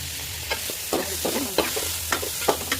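Green chillies and curry leaves fry in ghee with a steady sizzle while a utensil stirs in repeated scraping strokes. The sound is close and continuous, with no voices.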